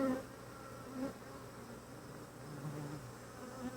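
Honeybees hum continuously during an open Flow Hive inspection, a close, steady drone with faint rising and falling tones and no speech.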